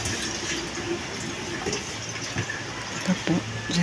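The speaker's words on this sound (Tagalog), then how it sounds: "Ito po si Tia ng hugas ng plato." Water runs from a tap at a sink while dishes are washed, a steady close splashing hiss with small clinks, as people talk quietly over it.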